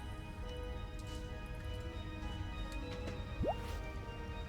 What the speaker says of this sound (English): So maybe I can draw some water up.